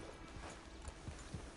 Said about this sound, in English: Get on the horse there